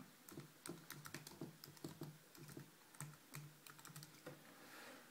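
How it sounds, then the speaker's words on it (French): Quick, irregular clacking of a computer keyboard as a title is typed, close and quiet, in uneven bursts of keystrokes with short pauses, no voices. "Donc je tape mon titre."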